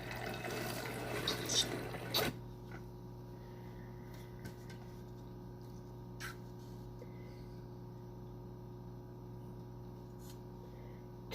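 Water is poured into a planting pot for sprouts as a steady, splashing stream for about two seconds. It then stops abruptly, leaving a quiet room hum with a few faint knocks.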